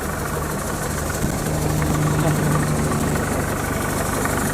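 A tractor engine idles steadily through a wheat harvest at night, a constant low rumble with a faint knocking pulse that stays close and even throughout.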